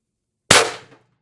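A Beeman BP50 carbine air rifle with a 16-inch barrel, charged to 800 psi HPA, fires a ceramic 12.7 mm ball in a single sharp, loud report that decays quickly into silence.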